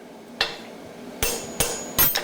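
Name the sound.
power hammer striking a creaser tool on hot stock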